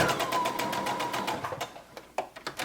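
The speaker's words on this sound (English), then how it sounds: "we're just gonna start at the seam here and just top stitch around that thumb hole opening area." A sewing machine top stitches around the thumb hole opening of a hooded sweater bolero, running in a steady, rapid rhythmic whir that pauses and then gives a few short, separate stitching bursts near the end.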